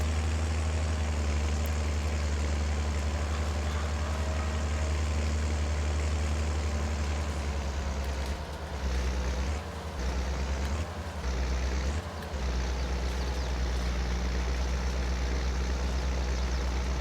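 A Case tractor engine runs steadily at a slowed pace, a loud low rumble that holds throughout with a few brief dips in level near the end, and no one speaking.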